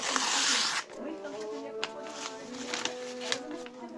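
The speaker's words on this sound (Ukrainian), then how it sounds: "відкриваємо перший пакет" Crinkly tearing and rustling of a paper packet being opened, close by, followed by someone talking over soft handling noises.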